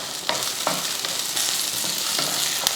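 Moong dal and curry leaves dry-roasting in a pan, giving a steady, close crackling sizzle with a few sharp scrapes of stirring spaced through it, no voices.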